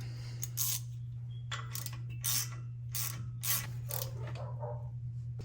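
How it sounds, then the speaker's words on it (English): Ratchet tightening an axle nut during a Bilstein leveling kit install, repeated short bursts of close, sharp clicking over a constant low hum, no talk. "Let's go ahead and put our little axle nut back on."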